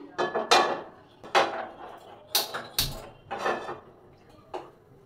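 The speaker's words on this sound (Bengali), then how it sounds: "ফ্রাই প্যান বসাবো এখন।" A frying pan is set on a home kitchen stove amid a series of close metallic clanks and knocks, arriving in irregular bursts of cookware clatter over a few seconds.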